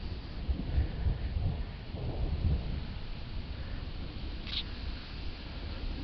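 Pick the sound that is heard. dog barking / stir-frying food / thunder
thunder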